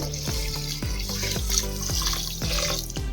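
Water pours in a steady stream onto sugar, its pitch rising in repeated glugging pulses as the container fills, close and clear with no talking.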